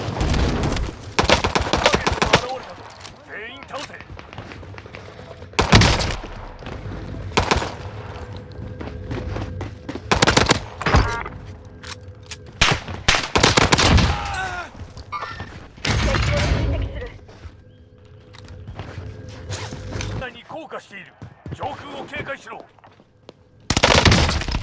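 Gunfire in a first-person shooter game, with rapid bursts of shots and sharp single cracks scattered throughout, interrupted by quieter gaps and a voice talking intermittently.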